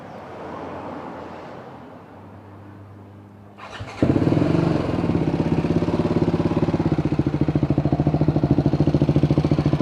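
A BMW G 310 GS motorcycle fitted with a complete Akrapovic exhaust, in Bali, starts up about four seconds in after a quiet stretch, then settles into a loud, close, steadily throbbing idle with a rapid pulsing beat.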